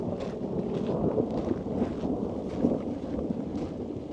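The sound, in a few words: thunder during rainstorm at lake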